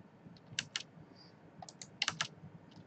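Computer keyboard keys and a spacebar are tapped while modeling in Maya, a few quiet, scattered clicks in short bursts against a faint background.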